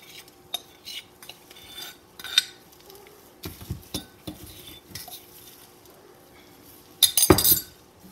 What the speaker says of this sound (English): I'm gonna go ahead and just mix it all together